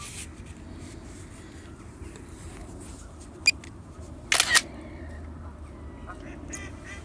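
Two quick camera shutter clicks from a DJI Mini 3 Pro drone taking a top-down photo of a boat on a lake, sounding brief and close over steady faint outdoor background noise.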